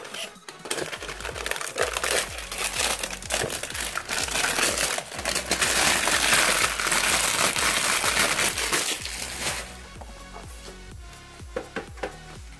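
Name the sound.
unwrapping plastic-sealed PC power supply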